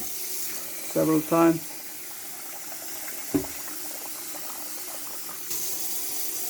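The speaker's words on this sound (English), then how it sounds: "So I just rinse them over and under the water" Running tap water splashes over food being rinsed in a sink, steady and moderately close, with short bursts of talk over the flow.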